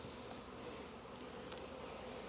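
Honey bees buzz as a continuous faint drone around a hive while two swarms are combined, a steady dense hum with no voices.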